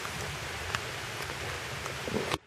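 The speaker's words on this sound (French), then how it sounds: "sous cette pluie que vous entendez tomber" Rain falls steadily, a soft continuous patter with occasional louder drops on a surface nearby, then cuts off abruptly.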